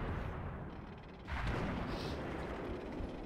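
Tank cannon fire in the online game World of Tanks, one deep boom erupting midway and rolling into a sustained rumble, loud and alone.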